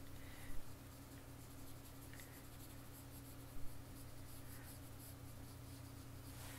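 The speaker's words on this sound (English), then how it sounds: "taking your watercolor pencil and going into wet paper. I'm using very little pressure because it gets very dark" Watercolor pencil worked with very light pressure across wet paper, giving a soft, continuous scratchy rub that runs steadily for several seconds beneath a low electrical hum, with a couple of faint taps.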